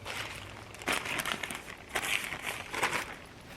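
A plastic shipping bag from a Temu haul crinkles and rustles close by in several irregular bursts, crisp crackling handled by hand without speech.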